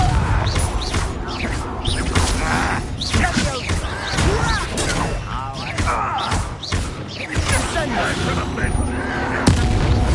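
Repeated Confringo blasting-spell explosions burst in a fast-paced Hogwarts Legacy battle, dense crashing impacts layered over continuous game noise and voices, fairly loud throughout.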